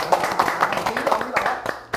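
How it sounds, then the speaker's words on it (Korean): A class of students claps together during a history lesson, a short burst of quick, uneven hand claps with a teacher's voice speaking over them. "박수 네. 치겠습니다."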